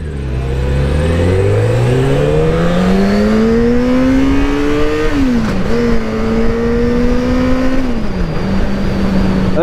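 An XJ motorcycle engine, speed-restricted, revs loud and close, its pitch climbing steadily, dipping briefly and then holding a high drone, with no voices.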